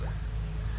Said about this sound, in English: they got frogs jumping all over right here